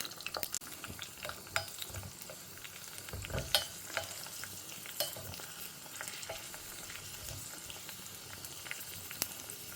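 Cashews and raisins frying in ghee, a soft continuous sizzle with occasional stirring clicks of a spoon in the pan, close but fairly quiet, with no one talking.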